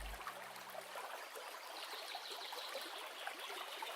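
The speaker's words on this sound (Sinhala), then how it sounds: "ඒකට වතුර කෝප්ප කාලක් දාගෙන" Water from a cup poured into a bowl of chilli powder, pepper, salt and sugar spice mix for mushroom batter, a steady close trickling splash running throughout with no talk.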